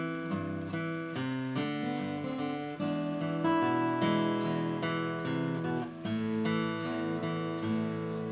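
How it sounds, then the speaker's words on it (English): An acoustic guitar is thumbpicked without percussive slaps, ringing bass notes and chords in a steady, clean melodic pattern that plays alone. "I recommend just playing the song, like just playing the whole song through without any sort of like percussive sound"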